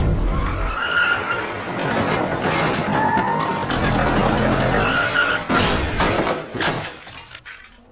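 A car in a film loses control and skids, a loud sustained tire screech with engine roar, then a sharp crash and shattering glass near the end before the sound trails off.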